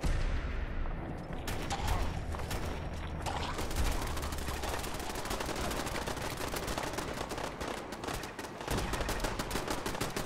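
Sustained automatic gunfire in Fallout 4 rattles on without pause, a dense rapid stream of shots at steady loudness throughout.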